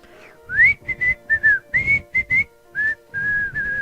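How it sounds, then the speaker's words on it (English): Someone whistles a choppy, tuneful phrase of short, clear notes during a live stream, each note rising or sliding slightly, with a few held notes near the end, close and fairly loud. "My whistle buddy. Blow your whistle, Nico."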